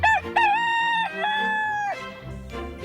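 A rooster crows in a loud, close cock-a-doodle-doo with a short opening note, a long sustained call and a falling end, heard alone with no talk.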